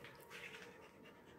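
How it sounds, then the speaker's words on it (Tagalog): A dog pants steadily and close by, quick rhythmic breaths continuing throughout with no talk over them, outdoors near a house under repair. "Kasama ko po pala yung aso ko."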